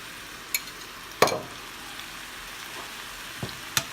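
Noodles tossed with pesto in a pan give a soft, low background sizzle, broken by a few sharp clinks and scrapes of a utensil against the pan.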